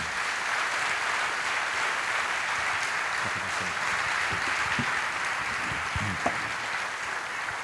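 Steady, sustained audience applause filling a theatre, dense clapping with no break and a few louder claps standing out near the end.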